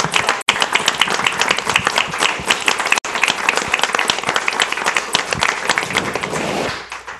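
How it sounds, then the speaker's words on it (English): Steady, loud applause fills a city council meeting chamber in Vero Beach, many hands clapping continuously for the police force for several seconds before tapering off at the end. "give them a Absolutely. royal applaud for our police force and the training"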